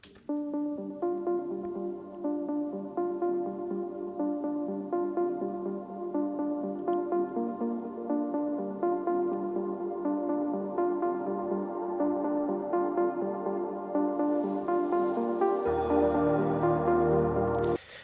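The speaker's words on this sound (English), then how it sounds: "it's that little pluck rhythm that we're going to try and recreate" A bright synth pluck melody plays in a steady, bouncy rhythm with sustained chords beneath; a deeper bass line and fuller texture enter near the end.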